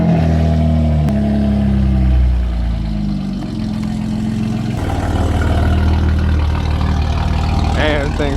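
A small pickup truck engine idles roughly and rumbles up close, its tone shifting as it revs a little, with some background chatter.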